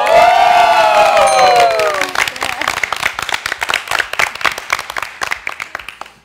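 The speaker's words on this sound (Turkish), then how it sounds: "Alkış kıyamet, wow." A television game-show studio audience bursts into cheering and whooping, then settles into loud rhythmic clapping with shouts, close and energetic; some voices rise above the crowd.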